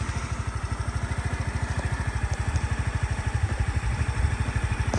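A 2018 Suzuki Address 125 scooter engine idles steadily, a fast, even low putter with a rhythmic pulse that stays close and constant throughout.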